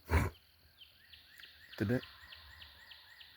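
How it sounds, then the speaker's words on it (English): Wild turkey gobbling in spring woods along a roadside: a loud rough burst at the start and a second rattling gobble about two seconds later, with birdsong chirping faintly in between. "I heard him gobble"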